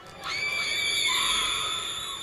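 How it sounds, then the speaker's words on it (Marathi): A woman's loud, sustained high scream in a Marathi horror story, rising sharply after a quiet start and holding for about two seconds with no talk. "अचानक ती जोरात किंचाळली आणि त्याच्या दिशेने झेपावली"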